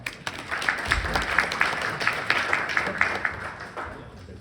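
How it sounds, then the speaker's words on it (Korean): Audience applause welcoming a speaker at a Korean corporate presentation on HD Hyundai Mipo shipbuilding digital manufacturing; a smallish crowd claps for about four seconds in a steady, moderately loud patter with some distinct individual claps. "그럼 박수로 모시겠습니다"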